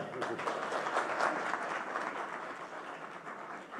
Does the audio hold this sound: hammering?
no